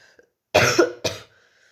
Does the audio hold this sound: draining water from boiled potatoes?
no